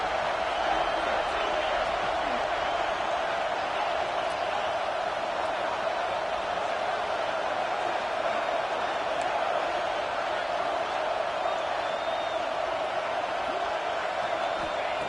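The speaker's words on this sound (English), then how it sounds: "the crowd coming to life here, trying to help this defense down in the red zone" A stadium crowd at an American football game roars steadily in a dense, continuous wash of cheering that stays loud and even throughout.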